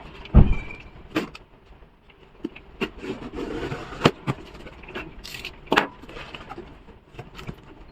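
Cardboard packaging for a car turbocharger being handled and opened, with scattered scrapes, rustles and sharp taps at close range, quiet between the bursts.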